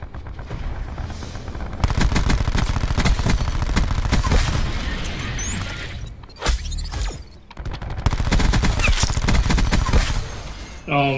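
Rapid bursts of Cordite automatic gunfire from Call of Duty Black Ops 4 in a Domination match, loud sustained fusillades with brief pauses and mechanical clicks between strings of shots.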